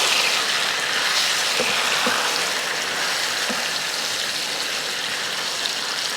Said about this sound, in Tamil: எண்ணெய் நல்லா காஞ்சதுமே கொஞ்சம் கருவேப்பிலை போட்டு இந்த மாதிரி சிக்கனை எடுத்து வச்சிட்டிங்கன்னா